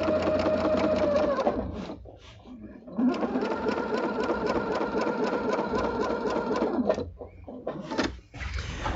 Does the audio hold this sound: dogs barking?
no